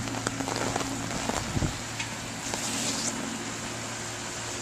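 Heavy rain from Hurricane Irene pounds down at high tide by a flooding bay walkway in Jersey City, with hard wind; a dense, steady hiss of rainfall runs continuously, with a few brief thumps and no talking.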